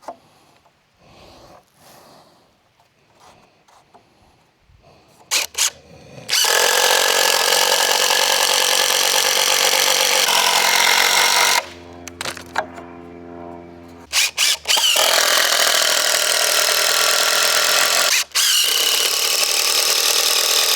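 A power drill whines loudly as it bores into wood in two long bursts while building a pig pen, with quiet handling noises and short trigger blips between.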